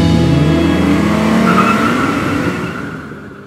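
A 2021 Ford Bronco Sport EcoBoost pulls away hard on a test track, a loud close engine roar with rising revs and some tire noise, fading as it moves off toward the end.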